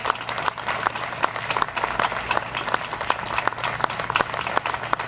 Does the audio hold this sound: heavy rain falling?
no